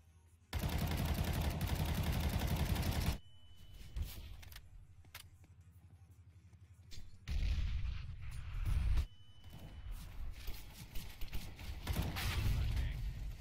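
Counter-Strike gunfire in a competitive match, a long sustained burst of rapid automatic fire followed by scattered single cracks and a second loud volley, with quieter mechanical game sounds between.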